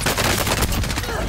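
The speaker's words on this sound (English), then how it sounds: "It's all the gunfires on the right" Rapid bursts of gunfire in the video game Warzone, dense and loud across a short stretch, with no talking.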